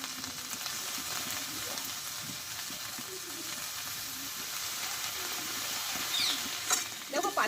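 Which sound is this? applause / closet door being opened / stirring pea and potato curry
stirring pea and potato curry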